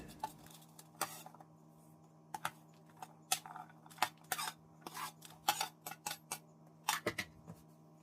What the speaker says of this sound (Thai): นำเครื่องสมุนไพรทุกอย่างมาโขลกรวมกัน